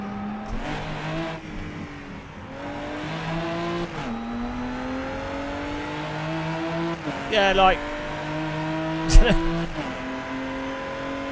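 Race car engine in a racing video game, holding a steady drone with rising and falling pitch as it climbs through the revs, with brief louder bursts, under continuous talk.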